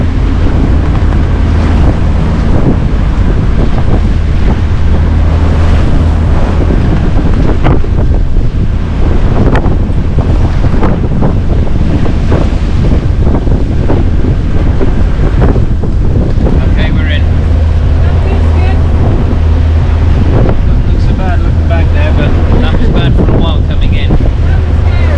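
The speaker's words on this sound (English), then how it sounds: "with a following strong wind and swell pushing us forward" Strong wind buffets the microphone while a sailboat runs with a following sea swell off the south coast of Norway, giving a loud, continuous rush of wind and water throughout with no clear talking.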